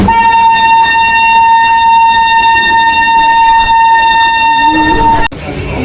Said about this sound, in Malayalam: നമ്മുടെ മൈസൂറിലോട്ട് പോകുന്ന ട്രെയിനാണ് കേട്ടോ.